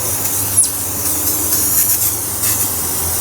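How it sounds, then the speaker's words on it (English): Brake cleaner from an aerosol can sprays onto a greasy part that needs degreasing, making a loud, close, continuous hiss that swells slightly in a few short pulses. "brake cleaner on the whole bloody thing, but finish this can off."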